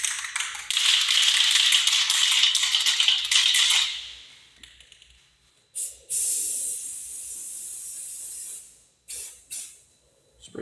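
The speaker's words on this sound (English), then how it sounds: "Spray paint the end," A loud, steady hiss of an aerosol spray paint can painting an MDT HNT26 rifle chassis for about four seconds, then several shorter bursts of spraying separated by pauses.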